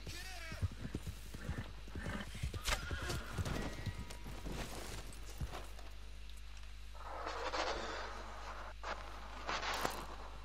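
Horse hooves clip-clop steadily in Red Dead Redemption 2, joined by a loud whinnying neigh, with game ambience, scattered sharp effects and a faint voice underneath.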